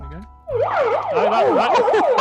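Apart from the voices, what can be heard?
megaphone siren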